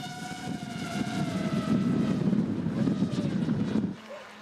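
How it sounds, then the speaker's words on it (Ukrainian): An FPV drone flies during a military unit's training exercise, its steady buzzing whine holding loud and close for about four seconds, then dropping off sharply to a quieter tone near the end. "чути, як звук помінявся, дрон"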